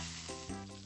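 A sandwich of white bread sizzling on the grill in the cooking game Papa's Cheeseria, a steady close frying hiss with faint stirring textures, no talking.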